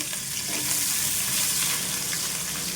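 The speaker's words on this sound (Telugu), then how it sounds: "ఇప్పుడైతే మీడియం సైజు రెండు ఆనియన్స్ అండి కట్ చేసుకున్నాను ఈ విధంగా ఇవి కూడా వేస్తున్నాను" Two medium-sized sliced onions frying in hot oil in a pan for tomato rice, a loud, steady close sizzle with light stirring scrapes throughout, no voices.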